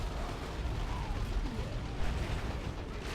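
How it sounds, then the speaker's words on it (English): Booming in-game explosion as a unit blows up on death in the real-time strategy game Dawn of War 2: Retribution, a loud dense rumble with low-end blasts sustained amid other battle noise throughout. "There's the explosion, knocking down the Nobs"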